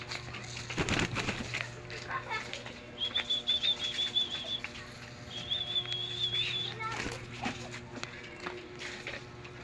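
Birds are released and take flight, giving brief bursts of wing flapping and a couple of high whistling chirps, mixed with a steady low hum and a person talking nearby.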